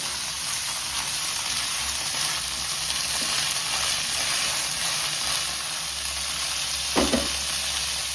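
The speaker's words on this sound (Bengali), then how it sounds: "চালটা আমি মটরের সঙ্গে সুন্দর করে ভেজে নেব" Soaked rice frying with green peas in a pan for pulao, a soft continuous sizzle and hiss with faint stirring, close by, steady throughout and with no talking.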